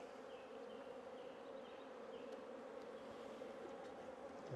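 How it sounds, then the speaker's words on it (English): Honey bees crowd the hive frames of a packed colony, their dense, steady buzz droning close and even throughout, with no voices over it. "So this one here is full to the brim with bees, on Richard's favourite frames again."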